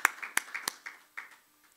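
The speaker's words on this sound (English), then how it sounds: "I think you deserve a round of applause." A handful of sharp hand claps ring out unevenly, sparse and echoing in a room, then fade into quiet.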